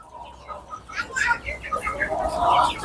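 Native (desi) chickens cluck and chirp nearby in short, uneven bursts, with soft background murmuring.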